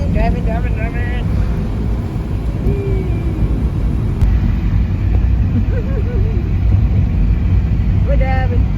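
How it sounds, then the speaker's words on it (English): Steady engine rumble and road noise from a car on the move, filling the clip continuously at moderate level while people talk over it inside the cabin. "We're driving."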